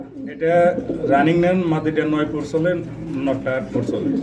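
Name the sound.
pigeons cooing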